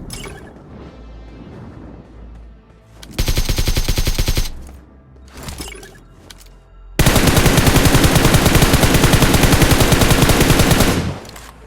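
Rapid automatic M416 rifle spray in PUBG Mobile, a short dense burst of gunfire followed by a few scattered shots and then a longer sustained loud burst, with faint game ambience and mechanical clicks between.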